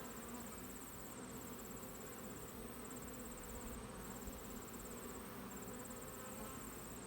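Honey bees buzz continuously around open beehive frames during a hive split. A dense, steady hum fills the air at close range, with individual bees whining past now and then.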